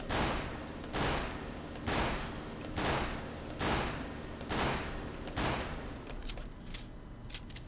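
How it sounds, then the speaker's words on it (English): A Glock 18 pistol in Counter-Strike: Global Offensive fires in burst mode, roughly eight evenly spaced bursts at a steady rhythm, loud and close, with no speech. "I can go to burst fire mode"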